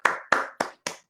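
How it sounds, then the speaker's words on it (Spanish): Four quick, sharp hand claps in an even rhythm, close and clear, offered as applause for a speaker at the end of a conference on migration policy. "les pido un aplauso virtual"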